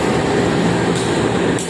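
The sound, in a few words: Gaya Baru Malam Selatan train locomotive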